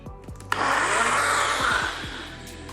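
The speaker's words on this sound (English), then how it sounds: "Throw it in the blender." Countertop blender whirring as it purees fresh peaches, cherries and scoops of cream into a drink; a steady loud motor roar starts abruptly after a few clicks and runs for over a second before easing down.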